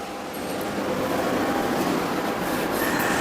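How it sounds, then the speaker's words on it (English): A pipe-end sand blasting machine with swinging blast nozzles runs continuously, giving a steady, dense rushing hiss at moderate volume with no voices. "This is our new design sound blasting unit"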